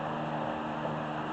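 An electric fan runs steadily in a garage during brake and rotor work on a 2015 Jeep Grand Cherokee, giving a constant, even whooshing hum with a low drone and no talking.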